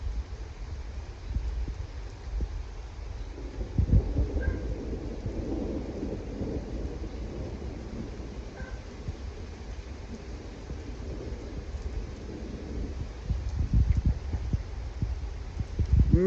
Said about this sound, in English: Massive big crack of thunder.